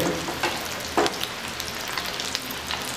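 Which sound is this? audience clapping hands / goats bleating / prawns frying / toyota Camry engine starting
prawns frying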